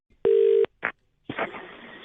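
Telephone dialing tones for a phone call: one long steady electronic beep, a short blip, then a rougher buzzing line sound, close and fairly loud, with no one talking.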